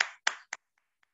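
A few sharp hand claps, three distinct strikes that quickly thin out into two faint ones, close and dry with no voices.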